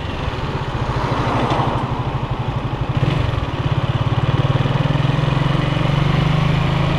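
Kuba K Light 202 motorcycle ridden on the road around Samsun, its small engine droning steadily and close with a buzzing pulse, rising in pitch partway through, over wind rush.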